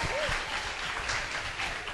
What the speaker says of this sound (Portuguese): Então vamos aplaudir aí.